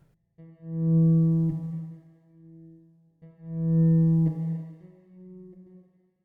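Two sustained low notes tapped on a bass guitar ring out one after another, each swelling then fading into a lingering reverb tail, with silence between them.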